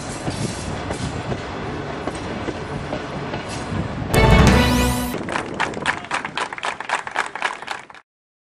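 A double-decker passenger train in Tatarstan rolling along the rails, steady clatter and rumble with a louder whooshing pass midway, then rhythmic wheel clacks before cutting out.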